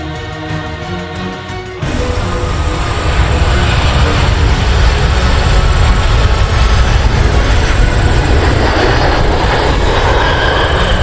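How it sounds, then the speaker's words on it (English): Emirates' Dubai 1 Boeing 747 lands on runway 24R at Cleveland Hopkins International Airport, and a loud, steady jet engine roar swells in abruptly and keeps rumbling powerfully to the end. "This is Dubai 1, essentially the Emirates version of Air Force One, landing on runway 24 right at Cleveland Hopkins International Airport"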